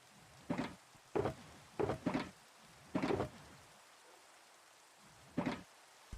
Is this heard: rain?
yes